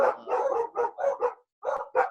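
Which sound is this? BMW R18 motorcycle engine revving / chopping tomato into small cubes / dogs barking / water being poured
dogs barking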